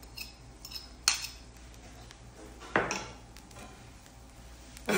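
Two eggs and half an onion are mixed in a bowl, with a few sharp utensil clinks against the bowl spaced apart over quiet room background.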